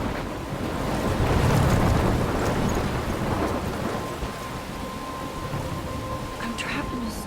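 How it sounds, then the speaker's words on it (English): Stormy scene from the video game Life Is Strange: steady roaring rain and wind, with waves crashing and rumbling thunder filling the whole stretch, loudest early and easing slightly toward the end. "I'm trapped in a storm?"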